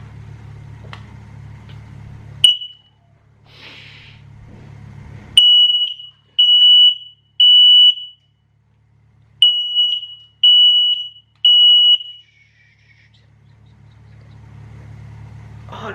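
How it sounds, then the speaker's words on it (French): A smoke detector lets out a loud, sharp, high-pitched beep, then sounds in clusters of rapid shrill beeps in two groups of three. Quiet vehicle rumble sits between the bursts. "Dans tous les cas j'arrive à recevoir des détecteurs de fumée, il y en a 6"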